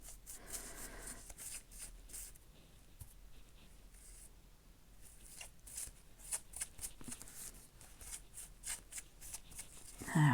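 Dry rubbing and scraping from burnishing double-sided tape on an embossed paper card, a soft, close, irregular rasping in short strokes with brief pauses, faint overall and mostly without talk.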